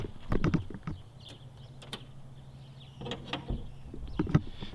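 Latch clicks, scraping and a couple of thuds sound close by as the hood of a Chevy Colorado pickup with a factory 5.3 V8 and 4WD is worked open, in short bursts with pauses between, and no talk.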